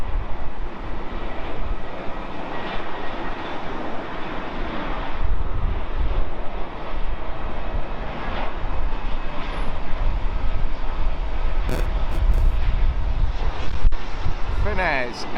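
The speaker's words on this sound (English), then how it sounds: "And Swiss Air's A320neo, and that is coming in from Zurich." A Swiss Air Airbus A320neo lands at London Heathrow after arriving from Zurich, a steady broadband engine roar blended with gusty wind buffeting the microphone for the whole stretch.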